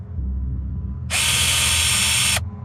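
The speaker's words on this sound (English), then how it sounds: "It was the high-pitched whine of a power drill." A power drill whines high and loud in one steady burst of about a second and a half, cutting in abruptly over a low rumbling background and stopping just as sharply.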